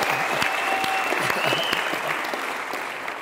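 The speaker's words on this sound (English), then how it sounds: "Give him a round of applause." Audience applause at an outdoor Youth Day gathering in Khayelitsha greeting a graduating student, a steady, dense wash of clapping that holds for about three seconds and slowly tapers.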